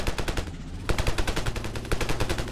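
Rapid automatic gunfire in the video game Ravenfield during a helicopter assault, loud continuous bursts with brief gaps, no talking.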